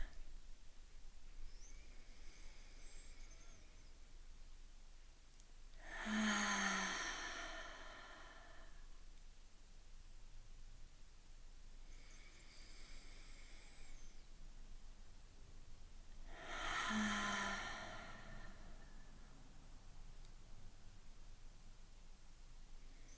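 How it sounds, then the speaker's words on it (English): Two slow, deep breathing cycles during a guided relaxation, each a soft airy inhale through the nose followed by a louder, fuller exhale through the mouth, quiet and close over faint background hiss. "we're going to take some deep breaths in through our nose and out through our mouths"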